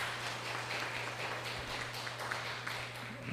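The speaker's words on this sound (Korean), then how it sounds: "박수로 우리 격려해 주시고" Church congregation applauding during a Sunday worship service, a soft, steady wash of clapping over a low electrical hum, fairly distant and quiet throughout.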